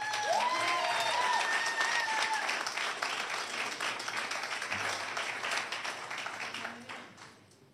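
Audience applause at a public meeting, broadband clapping sustained for about six seconds with a few voices calling out early, then fading away.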